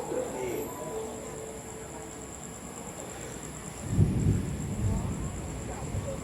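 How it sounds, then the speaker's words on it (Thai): Rain falling at the Ayutthaya railway station in Thailand, a steady hiss under distant bird cooing, with a low rumble of thunder swelling up partway through. "ตกมาตั้งแต่ตอนกลางวันแล้วนะฮะ ตอนกลางคืนก็ ปลายดอกฝนอยู่นะครับผม"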